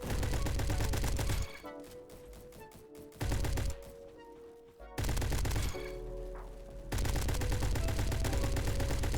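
Rapid automatic rifle fire from AK and Galil assault rifles in the Roblox shooter Bad Business, loud full-auto bursts broken by short gaps, with game sounds between bursts.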